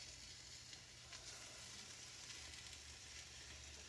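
Bacon frying in a pan, a steady faint crackling sizzle with a low hum beneath it and no talking.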